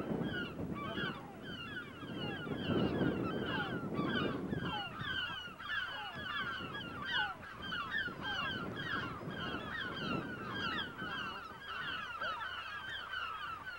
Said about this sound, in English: The birds isn't a bit pleased about all this disturbance.